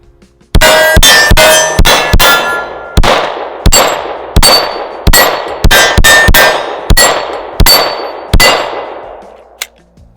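A Glock V pistol fires about fifteen loud shots at a steady, fairly quick pace, each one a sharp crack followed by a ringing metallic clang from steel targets, with no talk.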